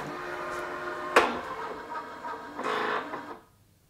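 The embroidery unit arm of a Singer EM9305 embroidery sewing machine whirs and shifts through its calibration moves, with a sharp clunk partway through and a closing motor burst before falling silent.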